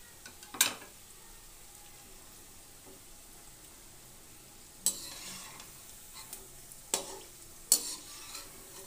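Crispy carrot snack frying in hot oil, a quiet low sizzle broken by several sharp stirring and scraping clicks from the pan at irregular intervals.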